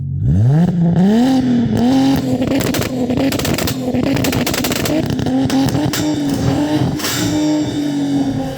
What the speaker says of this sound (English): this one has a thrust exhaust system, which you're going to get to hear in a second